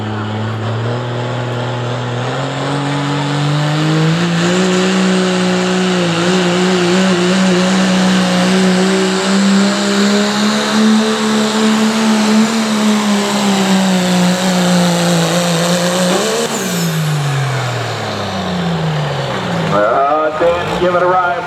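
A pulling truck or tractor roars at full throttle through a sustained loud run at a truck and tractor pull in Caldwell, Ohio, pitch climbing then falling away near the end, with an announcer talking over it.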